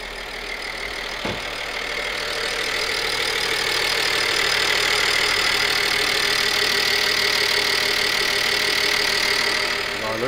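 A BMW E93 with an N53 engine and new injectors runs steadily after a cold start, giving a close, loud, even idle with a faint ticking rattle and a high whine held throughout.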